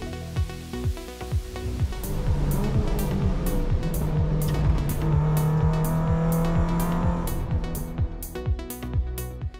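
A second-generation 2023 Toyota GR86 race car drives hard at Sydney Motorsport Park. Its engine revs loud and close, climbing through the gears with a steady stream of rapid shift cuts.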